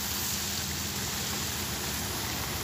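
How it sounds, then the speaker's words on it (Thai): A fine water spray hisses steadily and evenly over potted rose plants on an overcast morning at a plant nursery, with no voices. "อันนี้ก็รดน้ำเช้า"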